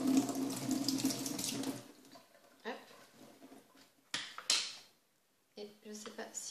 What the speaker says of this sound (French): Donc ce que je fais, c'est que je mouille d'abord la brosse.